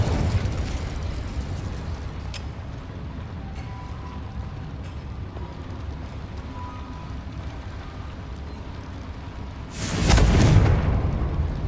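Spell combat in Hogwarts Legacy, with a low rumbling roar throughout and a sudden loud blast near the end as the Confringo explosive spell hits.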